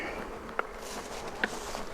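Honeybees hum at a disturbed hive as a soft, continuous buzz, with two brief sharp clicks standing out above it.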